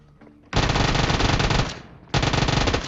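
Loud, close automatic gunfire in the video game PUBG, with two rapid sustained bursts separated by a brief dip.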